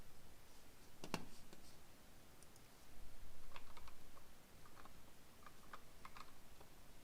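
Typing on a computer keyboard at a desk, faint clicks and key taps coming in scattered bursts over a low room hum, with a sharper single click near the start and quieter clusters later.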